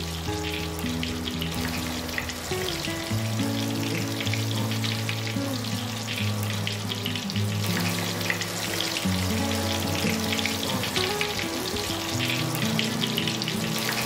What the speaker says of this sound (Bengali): এখন আমরা একটি গরম তেলের মধ্যে মাছগুলো একে একে দিয়ে দিব।